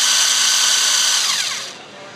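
A torque controlled impact wrench runs with a loud, steady high-pitched motor whine, then winds down and fades over the final half second, heard alone and close.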